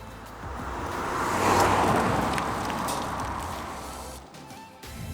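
A 2022 Honda Civic rolls along the road with a steady wash of tyre and wind noise that swells and eases, heard from inside the moving car with no engine note standing out.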